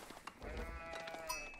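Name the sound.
sheep bleating in Age of Empires IV video game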